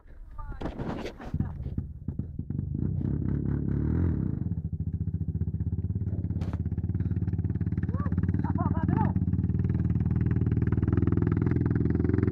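A dirt motorcycle on a rural trail in Ataleia, ridden in second gear and apparently flooded, runs as a steady loud engine drone, with sharp clattering bursts early on and people talking over it.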